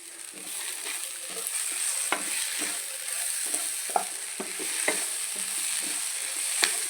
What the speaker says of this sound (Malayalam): കൂട്ടി നല്ലോണം ഇളക്കിയെടുക്കട്ടെ